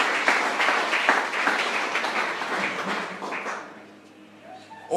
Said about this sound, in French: Applaudissons le Seigneur, frères et sœurs.